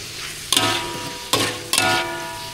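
Vegetables sizzle steadily in a hot pan, with three sharp bursts of louder frying as food is stirred and tossed.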